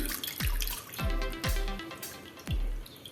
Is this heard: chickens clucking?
no